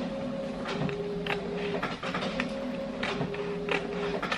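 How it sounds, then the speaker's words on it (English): A desktop printer runs a shipping label through, giving a mechanical whir with steady motor tones and repeated clicks and feed clunks, moderately close and quiet, with no talking. "We're gonna print the other shipping label for the other wig"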